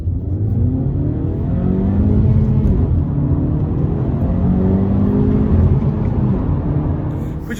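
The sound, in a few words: Honda Civic 1.5 litre VTEC turbo engine accelerating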